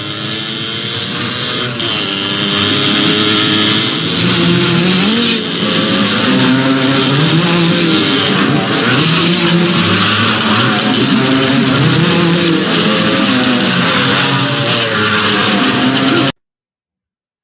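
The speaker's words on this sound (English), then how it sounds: "Bruce Lee's being attacked by a bunch of men on dirt bikes" Dirt bikes in a Bruce Lee film street attack snarl and rev continuously, their engine pitch rising and falling in repeated waves at close range, with no talk.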